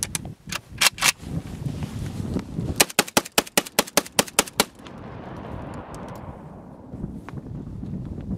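A 12-gauge shotgun fired repeatedly outdoors with a Bushnell Holosight mounted, loud sharp blasts in irregular bursts, a rapid string of about eight shots in the middle, then wind noise and a few fainter distant reports.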